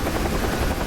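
Steady, loud, close rotor roar of a helicopter in the flight simulator DCS, continuous and unbroken through a short moment with no talk.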